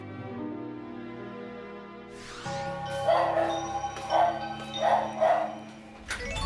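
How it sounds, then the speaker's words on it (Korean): A dog barks upstairs in a house, a few muffled, somewhat distant barks in a short cluster in the second half, over a steady hum of music and room noise. "오랜만에 들어오자마자 막 짖는 소리가 들리는데 아 위에 있구나"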